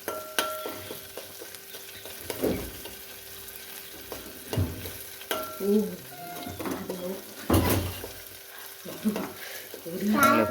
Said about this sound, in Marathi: इसको चम्मच से हिलाएंगे